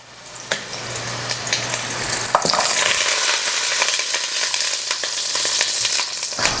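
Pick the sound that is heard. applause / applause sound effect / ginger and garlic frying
ginger and garlic frying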